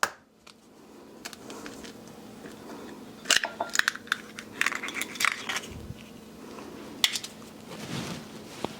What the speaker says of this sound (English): I'm going to beat that up a little bit